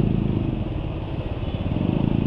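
A motorcycle engine running with Rored MTF oil additive sounds rough while idling: a steady, close, low rumble with a gritty clatter throughout and no talking.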